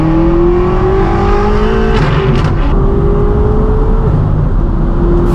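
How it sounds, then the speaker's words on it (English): A modified, almost 800-horsepower manual BMW M6 Gran Coupe roars through its loud exhaust, a continuous close drone with rising and shifting engine tones that stays heavy throughout. "we have our modified, almost 800 horsepower M6 Gran Coupe manual down low"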